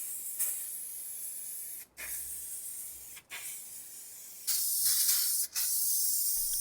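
Lacquer toner sprays onto furniture in several hissing bursts separated by short breaks, close and fairly quiet, with the final burst stronger and longer.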